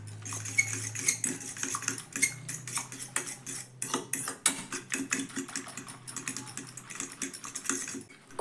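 Semolina batter being mixed with egg, chilli, pepper and turmeric: a fast, busy clatter of a utensil against a bowl, close and continuous, with brief pauses between bursts of stirring.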